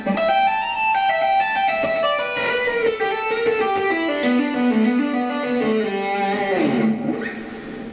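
Electric guitar tapping lick on the E blues scale played slowly, a flowing line of hammered and tapped notes descending and sliding, loud and close with a sustained singing tone that fades at the end.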